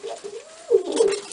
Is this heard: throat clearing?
no